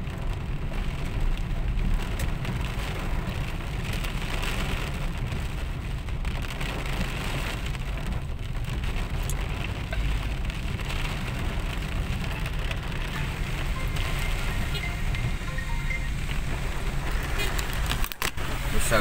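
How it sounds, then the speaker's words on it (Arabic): Heavy thunderstorm rain pours on the streets of Cairo's Nasr City and Suez Road, a steady loud hiss with passing traffic and voices mixed in throughout. "في لحظة واحدة الجو قلب وامطار شديدة، برق ورعد"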